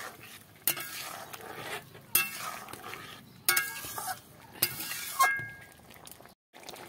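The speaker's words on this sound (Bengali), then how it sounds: "এবার এটা নেড়ে ছেড়ে নেব।" Fried papad is stirred into a curry in a pan, with several bursts of scraping and clinking from a spoon against the pan under a low sizzle, separated by brief pauses.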